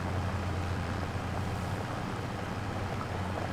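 A tractor pulling a forage wagon collects grass in Farming Simulator 25, giving off an even, unbroken mechanical drone with a low hum and a broad hiss, with no voices over it.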